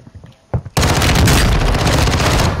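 Dense, loud gunfire and booming shots in a cowboy-themed online shooter game, a continuous volley after a few faint pops, with scattered voices in the background.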